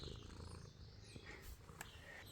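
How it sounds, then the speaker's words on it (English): A pet cat purring softly and steadily up close in a garage workshop beside a Ford-parts trail rig build, a low continuous rumble with faint background noise. "She's purring."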